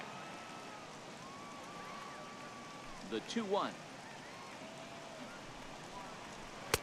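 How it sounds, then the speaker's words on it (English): Rain falls steadily in an MLB The Show baseball game at the Dodgers' ballpark, a soft, even hiss beneath a commentator's voice. "the rain starting to intensify here. It's coming down a little heavier now."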